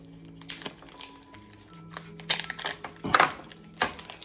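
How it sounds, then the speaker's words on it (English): Plastic packaging around a raw chicken being cut and pulled open, giving a run of close crinkling, tearing and crunching bursts that grow louder toward the end, with no talk. "we just open this or cut the plastic"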